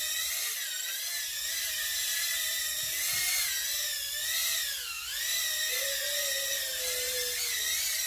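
A TR-MQ7 pocket drone hovers and flies steadily, its tiny propellers giving a continuous high whining buzz that shifts in pitch as it maneuvers, close and loud with no talking.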